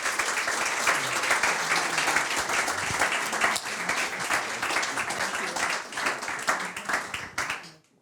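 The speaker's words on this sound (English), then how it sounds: "please join me in a round of applause" An audience at a leadership awards night applauding, a thick, steady wash of clapping that holds at full strength and then fades out over the last second.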